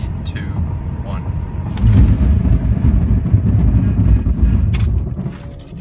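A 2008 Acura TL with a base 3.2-liter V6 on winter tires brakes hard from 60 mph on dry pavement with heavy ABS intervention, heard as a loud, steady rumble of road and tire noise inside the cabin.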